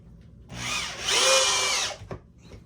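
A screw gun drives a 2.5 inch screw deep into wood for a target stand, one sustained whirring burst lasting over a second, close, followed by a short clack.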